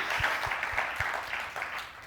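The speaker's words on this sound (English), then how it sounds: "So one more round of applause for everybody" Audience applauding guests at an event about Baja, a moderately loud round of clapping with a few distinct low thumps near the start, tapering slightly toward the end.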